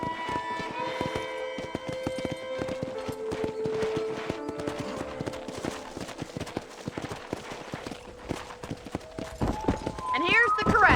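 Horse hooves clip-clop in a quick irregular rhythm at a ranch corral in the video game Red Dead Redemption, beneath a voice and soft background music, with a brief whinny near the end.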